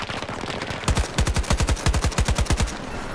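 An AK rifle fires in Battlefield 2042 as rapid tap fire, a quick run of about fifteen punchy shots in a steady rhythm after a short pause, loud and close, with no voice over them.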